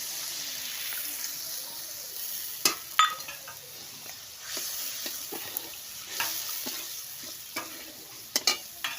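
Turmeric and spices frying in a pan for pabda fish curry, a soft steady sizzle broken by scattered scraping clicks of stirring, close and fairly quiet, with no talking.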